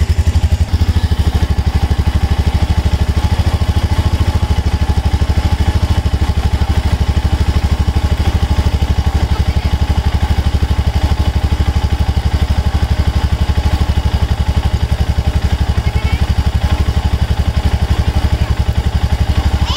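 A Royal Enfield Himalayan motorcycle engine running steadily in first gear, close and loud, with an even low thumping rhythm and light mechanical clatter, heard alone without pauses.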